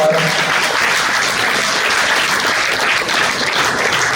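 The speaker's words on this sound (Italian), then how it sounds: "Ancora un applauso a Don Sergio" Steady, dense applause from a large audience at an award ceremony, loud and close, filling the whole stretch without pause.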